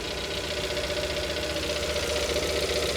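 A C7 Corvette engine idles up close with a fast, even ticking and knocking running through a steady mechanical hum, continuous and fairly loud, with no voices.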